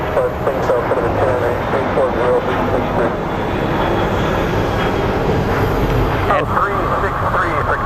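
A jet airliner roars at Phoenix Sky Harbor International Airport, a loud, steady, broadband engine rumble that holds throughout, with faint voices mixed in beneath it.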